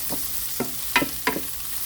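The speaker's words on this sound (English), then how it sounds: "We will saute until our spices are golden brown" Spices sautéing in a pot for chicken potato soup, with a spoon stirring them: four short scraping strokes spaced about a third of a second apart over a faint, low sizzle, close and fairly quiet.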